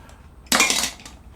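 Dishes and cutlery clatter once during washing up after a meal of yubu-chobap, a short, close burst of clinking that fades within half a second.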